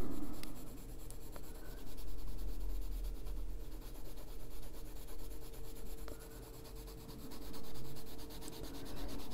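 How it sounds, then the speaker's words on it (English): Side of a coloring pencil shading lightly across paper, a steady soft scratchy rubbing that continues for several seconds with gentle swells in intensity, close and alone. "Okay, now I'm going to take the side of this pencil and just go in"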